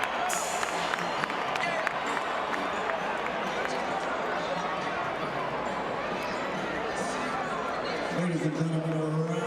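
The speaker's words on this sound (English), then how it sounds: "a round of applause for the six-time world champion, Super Shane Mozli." A large boxing arena crowd fills the space with sustained applause and cheering, a dense continuous roar of clapping, with a ring announcer's voice rising near the end.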